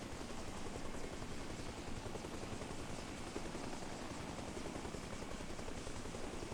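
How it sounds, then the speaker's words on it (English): Helicopter in flight in the video game Arma Reforger, a continuous heavy rotor thump with a rapid steady beat over a dense engine roar, loud and close throughout. "when you're flying in the helicopters"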